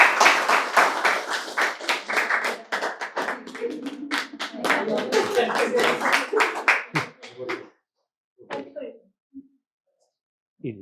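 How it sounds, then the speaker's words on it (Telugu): Audience applause at an award felicitation ceremony honouring ashram staff, with dense sustained clapping for several seconds that stops abruptly, leaving a few faint sounds and a brief voice. "చప్పట్లు కొట్టాలి బాగా."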